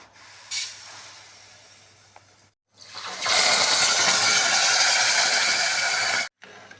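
Sugar, 600 grams of it, pours into a pot heating on a gas stove. It gives a brief rattle, then a loud, steady granular hiss that runs for about three seconds and stops abruptly.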